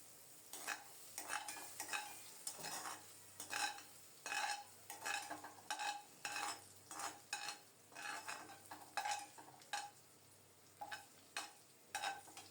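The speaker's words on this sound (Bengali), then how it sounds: "সব মিলিয়ে একটু লালচে করে ভেজে নেব" Long beans, green chillies and chopped onion frying in oil, with a quiet sizzle under a rhythmic series of spatula scrapes and stirs against the pan, repeated steadily with no talk.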